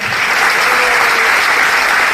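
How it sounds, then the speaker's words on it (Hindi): Applause from a crowd at a political speech event in Mira Bhayandar, Maharashtra: a dense, continuous wash of clapping that stays loud and even throughout the short stretch. "एक बार तालियां बजाइए"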